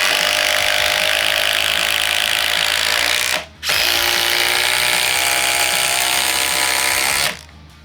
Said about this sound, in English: now we're going with the 5-inch Spax power lag, first with the 18 volt. Now the 36 volt.